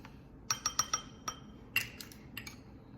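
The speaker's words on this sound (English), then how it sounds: "All right, let's mix that up." A spoon stirs sauce ingredients, among them garlic, red pepper flakes and xanthan gum, in a bowl. It makes a close, fairly quiet run of quick clinks and taps, then a brief scraping rattle.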